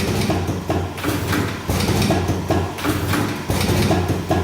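Buffalo Slim cigarette rolling machine rolling a filter tube, a close, repeated mechanical clatter of sliding and knocking strokes in a roughly regular rhythm, fairly loud, with no voices.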